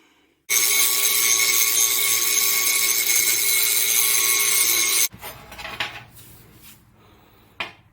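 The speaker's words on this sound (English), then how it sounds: "so we grind that smoothish" Worn steel steering rod from a Craftsman DYT4000 riding mower being ground smooth: a loud, steady grinding whine runs for about four and a half seconds, then stops abruptly, followed by quieter clanks and handling noises.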